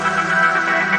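A deep house mid section built in SynthMaster One, with a sustained, dense synth pad and low bass tones holding steady and moderately loud throughout, no drums standing out.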